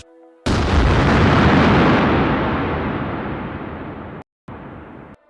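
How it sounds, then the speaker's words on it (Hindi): A single loud dynamite explosion blasting part of a mountain bursts out suddenly and roars on, its rumble slowly fading over a few seconds before a brief cut of silence. "गुफा के बाहर से जोर का धमाका हुआ।"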